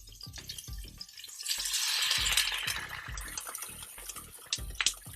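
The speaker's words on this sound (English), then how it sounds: "we're gonna drop in the water now" Water goes into a hot frying pan of pan-fried gyoza, bursting into a rising hiss of steam and sizzle that swells, then settles into a softer crackle with small pops, close by and without talk.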